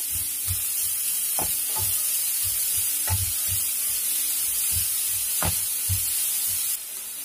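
Crushed carrot and green chilli sauté in a pan under a constant low hiss, punctuated by a series of irregular knocks and scrapes of a spoon against the pan.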